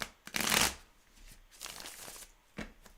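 Cards shuffled by hand in a few quick riffled bursts, close and fairly crisp, with short pauses between them and no talking.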